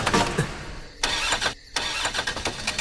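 A car engine cranks and catches, sputtering roughly before cutting out. Short silent gaps break the run-up, and the sound is loud and close, with no talking.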